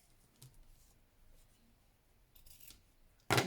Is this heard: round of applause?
no